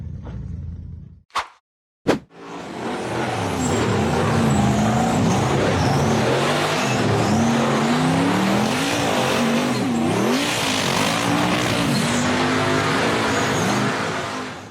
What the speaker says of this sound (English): The off-road vehicle accelerated hard up the rocky slope